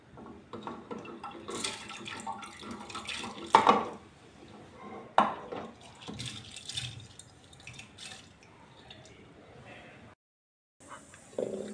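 Water splashes into a cooking pot of wheat for kheer. Soft pouring and sloshing come with a few sharp clanks of the pot and utensils, then a short silence before more handling sounds.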